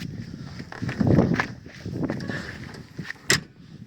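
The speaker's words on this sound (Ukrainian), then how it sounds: "Бачите, двері легенько, клоц" A single solid car door thunk near the end, preceded by soft handling noises, on a used car shown for sale among farm machinery; brief and fairly close.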